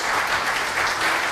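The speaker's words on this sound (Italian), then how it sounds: "Un applauso." An audience applauds at an award ceremony, the Premio Teleacras in Agrigento, with steady, dense clapping from a crowd throughout.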